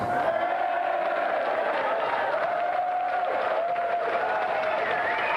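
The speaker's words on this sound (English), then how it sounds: "And another round of applause for Pat and Emily Cash." Studio audience on a video game television show applauds and cheers, with steady crowd noise and a sustained tonal element running underneath throughout.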